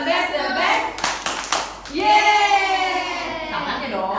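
Children clapping the 'tepuk semangat' rhythmic clap at a school orientation session: a few sharp, loud group claps followed by children's voices chanting in unison, close and energetic.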